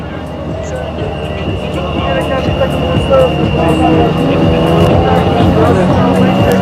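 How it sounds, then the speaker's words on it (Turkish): A Toyota WRC rally car idles and revs at the start ramp of the 2020 Marmaris stage, a loud, rough engine rumble that rises partway through, under an announcer and crowd voices. "ikinci Sayın Valimiz Orhan Tavlı şu anda Toyota'dan Elfin Emmons'a start verecek"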